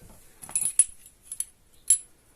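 A set of metal wrenches and pliers is handled, producing a few sparse, bright metallic clinks and jingles close by, with quiet gaps between them.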